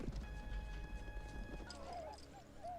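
Horse hooves clip-clop in a scene from the 1990 film Dances with Wolves, brief quick hoof beats followed by a horse's whinny, moderately faint over a low rumble.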